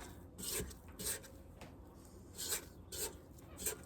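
Spatula scraping cookie dough down the sides of an Ankarsrum mixer bowl, a series of short soft rasping strokes in an uneven rhythm, close and quiet.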